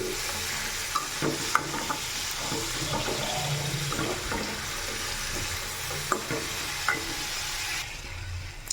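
Carrot fry being stirred in a pan while it cooks, a continuous sizzle with scraping spoon strokes and soft clatters of the utensil at irregular intervals, close and fairly loud, with no one talking.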